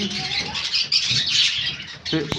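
Young pigeons chirping and cooing nearby in a dense, continuous chorus, with a brief voice and a faint clatter near the end.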